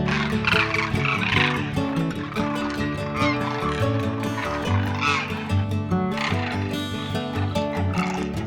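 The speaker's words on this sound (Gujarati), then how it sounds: "કેટલી બધી સંખ્યામાં અહીંયા જે આ કુંજ જે બર્ડ્સ છે એ કેટલા બધા છે" A large flock of demoiselle cranes (kunj) calls together in a dense, continuous chorus of overlapping honking and trumpeting notes, loud and close, with no pause over the whole stretch.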